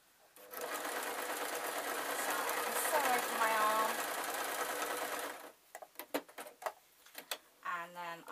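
A sewing machine runs in one steady, close burst of several seconds while stitching a ragdoll's shoulder, then stops, giving way to scattered handling clicks and a short spoken remark.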